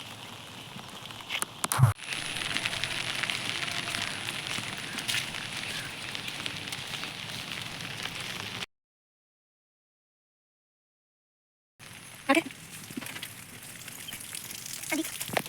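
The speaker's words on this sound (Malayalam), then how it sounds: "നല്ല ചെറുതായിട്ട് മഴ ഇങ്ങനെ പെയ്യുന്നുണ്ട്" Light rain falls outdoors as a soft, steady patter and hiss, broken by a few louder knocks and a short silent gap, with no talking.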